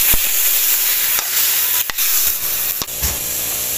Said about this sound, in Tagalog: Ihulog na natin itong langka. Sama-sama na yan sa pagigisa.